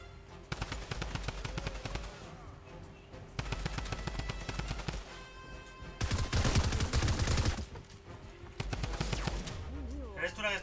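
Automatic gunfire in an arena video game: long sustained machine-gun bursts separated by brief pauses, loud and close, with one especially heavy burst near the middle, and bits of game sound between them.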